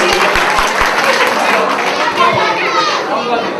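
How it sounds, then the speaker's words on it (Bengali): An audience applauds loudly as guests are welcomed onto a stage at a Bangla TV 14th anniversary event at a five-star hotel. Dense, sustained clapping and crowd noise fill the clip, with chatter mixed in. "সম্মানিত অতিথি তাদের সবাইকে একটি সজোর করতালির মাধ্যমে অভিনন্দন জানাচ্ছি"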